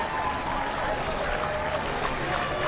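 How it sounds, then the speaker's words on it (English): Spectators along Main Street applauding as a veterans' unit passes in a Fourth of July parade in Huntington Beach, a continuous outdoor crowd wash with clapping blended into the general noise. "Getting a round of applause from the fans here."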